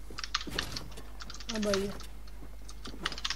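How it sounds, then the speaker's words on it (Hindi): Computer keyboard typing during a live Fortnite stream: quick, close clicking keystrokes in scattered bursts, mixed with someone talking. "इससे कीबोर्ड की आवाज तो आ रही है"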